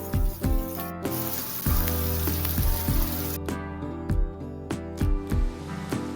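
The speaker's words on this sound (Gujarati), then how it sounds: "તેલ ગરમ થાય એટલે તેમાં 1 ચમચી રાઈ અને જીરું નાખીશું" Mustard seeds and cumin sizzle in hot oil in a kadai, giving a steady crackling hiss. Louder music with rhythmic beats plays over it, and the sizzle thins out partway through.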